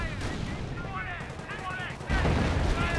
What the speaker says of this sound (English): The 25-pounder's opening up again.